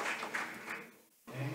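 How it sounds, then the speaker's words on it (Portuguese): A short round of applause closes a session of an Internet measurements working group meeting: faint, fairly distant clapping that dips almost to nothing for a moment, then picks up again. "uma boa salva de palmas para Agustin"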